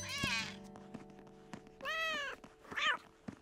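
A kitten in the cartoon Spirit e amigos gives three distinct high, thin meows spaced across a few seconds, close and clear with faint taps and background noise in between.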